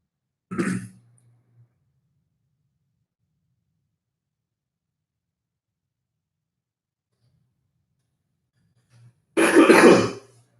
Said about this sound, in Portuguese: Agora eu não estou conseguindo parar de tossir